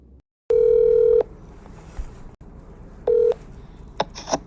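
A telephone line gives two steady dial-tone bursts ahead of a call, the first lasting under a second and the second shorter. Brief keypad tones and clicks follow at the end.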